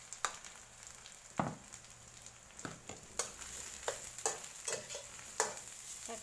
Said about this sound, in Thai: ใส่เครื่องแกงไปผัดจ้า ผัดไปเด้อ